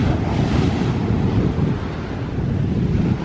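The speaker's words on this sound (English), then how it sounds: "The waves are so powerful" Powerful ocean surf crashes steadily onto a shell-strewn beach, a loud continuous roar of breaking waves with wind buffeting the microphone and no voices.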